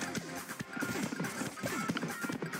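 A horse gallops in the Pizza Tower video game, a quick rhythmic clip-clop of hooves running under busy game music and effects.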